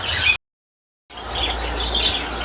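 Pigeons and other birds at the Guma haat bird market chirp and call in a busy, close chorus, broken by a brief silent gap.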